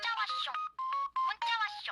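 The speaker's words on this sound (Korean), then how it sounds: "골목을 걷는데 쉴 새 없이 휴대전화 알림이 울렸다." A mobile phone notification rings as a bright electronic melody, in repeated tonal bursts with short gaps, loud and close.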